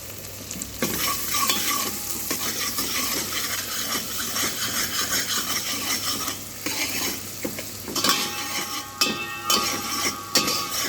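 Chopped onions sauté in a pan with garlic for ratatouille, giving a steady loud sizzle with frequent scraping stirs of a utensil against the pan and a few sharper clinks near the end.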